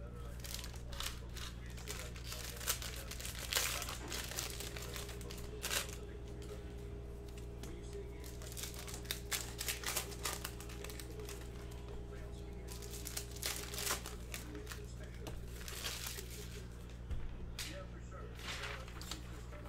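Cello wrapper on a pack of 2019-20 Panini Mosaic basketball cards crinkling and tearing open, close crackly rustles over a steady low background hum.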